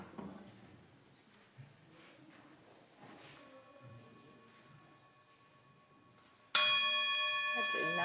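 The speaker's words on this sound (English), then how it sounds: "until the chime is rung." A chime rings out once during a church worship service, a bright, sustained metallic tone that strikes suddenly after quiet murmuring from the congregation in the parish house and lingers to the end.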